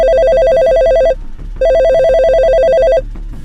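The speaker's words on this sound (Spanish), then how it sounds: "El teléfono de la familia comenzó a sonar." Telephone ringing in a family home, two loud electronic trilling rings separated by a short pause, close and clear with nothing else audible.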